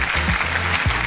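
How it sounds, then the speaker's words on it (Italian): Applause from a studio audience on an Italian radio show in Rome, a dense steady patter of clapping lasting about a second with a voice briefly over it. "Brava, un applauso."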